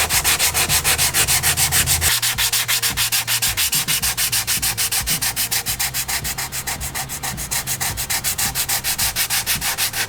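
Hand block sanding an aftermarket body part for a Corvette C6, a steady rhythmic rasping of abrasive paper stroking back and forth across the panel, close and continuous with no talking.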